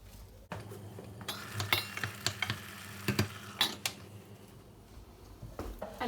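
A spoon stirring stewing apples in a cooking pot for compote, giving soft irregular scrapes and clinks against the pot, close and fairly quiet, with a faint simmering hiss underneath.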